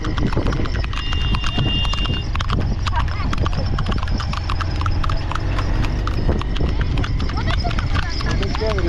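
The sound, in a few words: horse hooves clip-clopping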